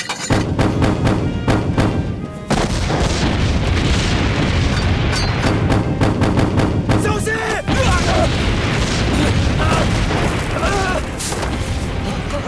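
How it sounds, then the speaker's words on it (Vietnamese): Artillery cannons fire in a war film set during the resistance against Japan: heavy booms and thuds repeat in rapid succession, loud and close, within dense battle noise and a brief lull. "Pháo Hoàng Trần, bắn pháo."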